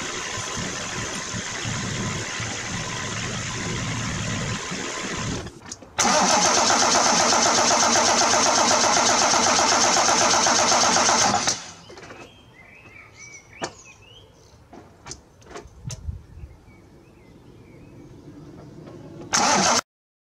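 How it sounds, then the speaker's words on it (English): A VW diesel engine with a Bosch VP37 injection pump cranks and fires into a loud, steady roar, then drops to a rough, uneven idle with scattered clicks and knocks before briefly revving again at the end. "the engine runs roughly when I bridge the terminals on the boost switch"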